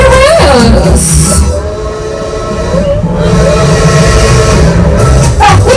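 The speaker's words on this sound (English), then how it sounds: "Our first sound is a train whistle" A loud train horn blares in sustained tones over heavy rumbling rail noise on the Polar Express train ride, with a brief spoken word near the start.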